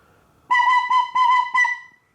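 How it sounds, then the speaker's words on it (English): A penny whistle plays four short bright notes in quick succession, close and clear, the last note held slightly longer before fading into quiet. "I have a penny whistle."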